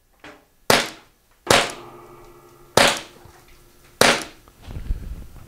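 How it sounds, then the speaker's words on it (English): A Pepperball TCP launcher fires four sharp, loud shots at a skull target, each a sudden crack with a short decaying tail, spaced roughly a second apart, followed by faint low rumbling. "we're gonna take our shot at the skull"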